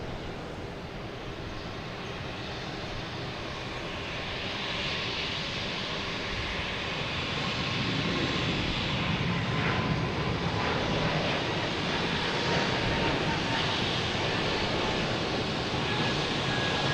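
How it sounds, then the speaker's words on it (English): JetBlue Airbus A220 jet taking off from Logan Airport, a broad engine roar that builds and swells louder midway and holds strong to the end, heard without voices. "we have JetBlue taking off to West Palm Beach"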